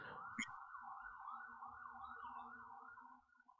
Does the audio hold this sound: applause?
no